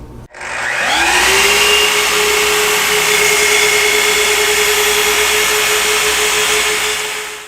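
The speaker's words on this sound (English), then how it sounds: "So I'm just going to go over to my miter saw, line up my laser on that, and cut these to length." A miter saw spins up and cuts wood to length, giving one loud, continuous motor whine that holds steady for about six seconds before winding down.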